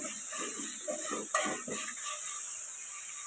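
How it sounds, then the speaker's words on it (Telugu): Rice with coriander and mint being stirred in a frying pot for bagara rice, a steady soft sizzle with a few scraping strokes of a spoon against the pot, close and alone without talk. "ఒక నిమిషం పాటు ఫ్రై అవ్వనండి"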